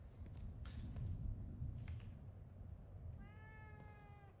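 A cat in The Evil Within 2 gives one faint, drawn-out meow near the end, over a low rumbling background with no talk.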